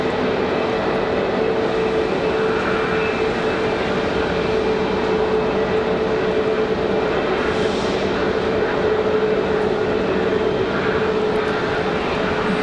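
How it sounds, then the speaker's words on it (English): A jet airliner at Raleigh-Durham International Airport on a snowy day, heard as a loud, steady engine roar that holds without break, with the broad rumble of a plane on the move nearby. "So there you go, Kevin, that'll be your chariot back to Orlando."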